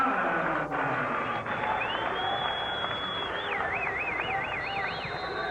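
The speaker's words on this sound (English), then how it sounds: "Listen to the Thunderbird crowd roar." A home crowd at a 1994 Troy State vs SUU college basketball game roars steadily through a timeout, a dense sustained wall of cheering and clapping with a whistling tone rising and wavering above it.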